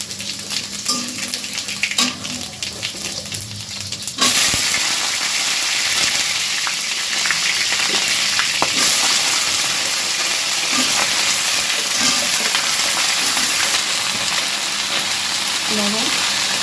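Cumin, dry red chillies, cardamom and cinnamon sizzle in hot oil as tempering for a Bengali pabda fish and cauliflower curry, a steady loud crackling hiss that swells sharply and holds, with a few clinks of stirring.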